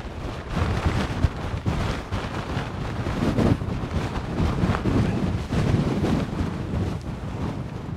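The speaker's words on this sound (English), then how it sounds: "But it's still gusting very strong up here." Strong gusting wind on the Fiacaill Ridge near Beinn Mheadhoin buffets the microphone with a constant loud roar, surging and easing in heavy blasts.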